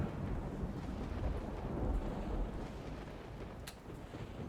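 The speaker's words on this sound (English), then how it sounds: "And a lovely storm." A thunderstorm in the video game Empyrion Galactic Survival gives a continuous low rumbling roar with rain and wind noise, steady and fairly loud, with no voices.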